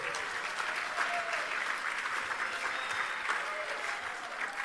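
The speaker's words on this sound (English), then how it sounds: "Let's give a big round of applause to our incredible timbrelists." An audience claps warmly for a Salvation Army-style timbrel display team at a Christmas concert, a continuous wash of applause that holds steady and fades slightly at the end, with faint voices mixed in.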